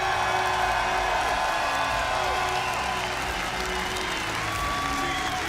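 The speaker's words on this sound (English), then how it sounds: "let's give W7M a round of applause" Sustained applause and cheering from a large crowd at a Six Invitational 2023 esports playoff fills the space, dense and continuous, with scattered whoops rising above the clapping.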